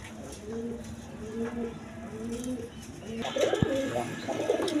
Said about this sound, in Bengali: দর্শকবৃন্দ, এক পেয়ার শাড়িং কবুতর আছে।